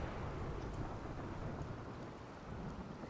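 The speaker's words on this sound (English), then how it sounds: "Just a lightning strike in the rain." Steady rain with a low thunder rumble and lightning crack in the game RimWorld, a dense continuous wash of falling water that stays loud throughout with no clear breaks.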